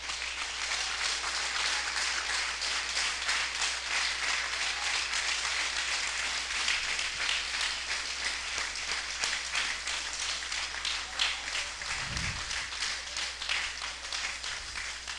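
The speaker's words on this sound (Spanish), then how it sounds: "Denle un fuerte aplauso al Señor." A church congregation applauding during a sermon, a dense and continuous clapping that stays steady for about fifteen seconds with a brief low thump near the end.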